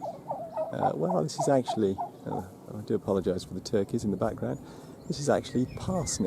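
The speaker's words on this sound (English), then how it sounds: "I do apologise for the turkeys in the background" Turkeys gobbling in the background of a garden, their calls faint and intermittent beneath someone talking close by.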